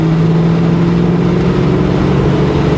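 A 1989 Ford Mustang 5.0 with a five-speed and Flowmasters pulls hard in third gear, a loud close steady engine roar with rising harmonic tone and no talking.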